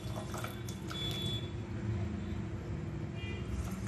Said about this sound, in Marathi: आणि ह्यात ही साखर बुडेल एवढंच पाणी घालायचं आहे